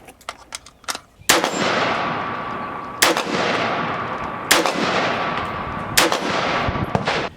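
Rifle shots from a 223 firing 55 grain ammunition through a Primary Arms GL X 2x prism scope setup, five sharp, loud reports spaced about 1.5 seconds apart, each trailing into a long echoing decay outdoors, preceded by faint handling clicks.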